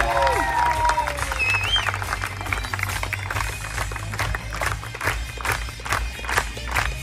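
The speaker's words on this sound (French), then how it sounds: "Vous pouvez également applaudir bien fort celui qui était en régie pour la toute première fois pendant tout le spectacle, Guillaume" Audience applause at a high-diving show at Walibi Rhône-Alpes park comes as a broad crowd clapping with some rhythmic pulses, heard under an announcer's voice and a lingering music tone.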